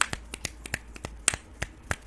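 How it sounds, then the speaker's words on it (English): Someone snaps their fingers as beatnik-style applause, about a dozen crisp, close snaps in a loose rhythm with quiet room tone between them. "time to snap the fingers"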